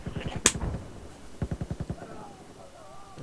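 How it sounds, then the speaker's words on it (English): Gunfire in the video game Battlefield 4, one sharp loud crack followed by a rapid burst of about eight shots, then quieter game sounds, with players' voices faintly mixed in. "Oh, he's shooting at you."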